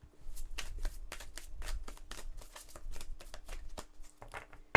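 A deck of tarot cards is shuffled in quick, crisp riffling bursts, a steady run of close, soft rustles and snaps heard alone.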